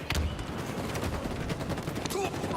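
Rapid gunfire in a Halo esports match at the 2023 World Championship, with dense bursts of shots and game effects running continuously under crowd and commentary noise.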